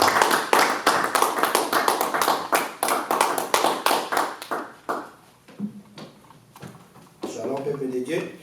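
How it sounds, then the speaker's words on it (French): Church congregation clapping in a fast, loud, rhythmic burst of claps that slows and thins out, followed by scattered cheering and voices near the end. "que nous allons appeler notre frère Jérémie, nous acclamons très fort le Seigneur"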